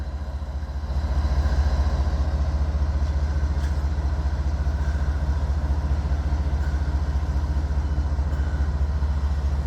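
A freight train on the FEC line pulls away with a deep, steady low rumble and engine drone that swells slightly near the start, then holds even and continuous.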